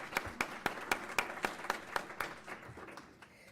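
Applause breaks out at a school board of education meeting, a small group clapping in a fairly steady rhythm that thins out and fades toward the end.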